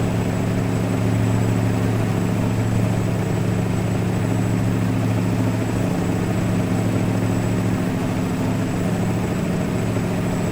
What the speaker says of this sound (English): Just listen to that engine purring.